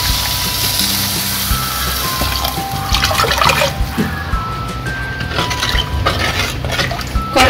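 Rice-washing water is poured into a pan of fish curry, a close, gurgling splash of liquid with occasional light clinks against the vessel.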